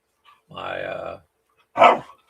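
Puppies bark indoors between office desks: one longer, throaty bark followed after a pause by a short, sharp one, both close in an otherwise quiet room.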